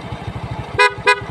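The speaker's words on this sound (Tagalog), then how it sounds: "Loud horn." Two short, loud honks of a Honda Wave 100 motorcycle horn sound over a steady idling engine, close by.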